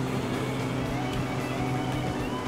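A car accelerates during a race in the video game GTA V, giving a steady, droning engine tone at constant loudness with no pauses.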